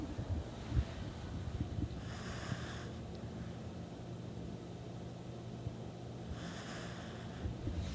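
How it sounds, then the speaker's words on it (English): Lucy, a pet dog lying on a couch, snores in two slow, breathy rasps spaced several seconds apart, faint and close against a quiet room hiss. "Lucy's snoring."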